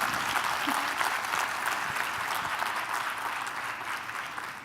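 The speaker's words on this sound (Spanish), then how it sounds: "¿por qué no le anticipamos un aplauso a los 50 a la UDEM?" Sustained audience applause at a university conference celebrating UDEM's upcoming 50th anniversary, a steady dense wash of many hands clapping that fills the room and holds evenly throughout.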